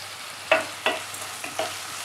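Freshly chopped tomatoes with rock salt are stirred in a frying pan for a Chettinad prawn thokku, with four distinct scraping stirs over a soft sizzle.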